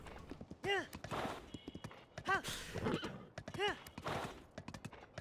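Slow horse hooves clip-clop in Tears of the Kingdom, steady ambling footfalls under a couple of whinnying neighs, with someone talking over the top.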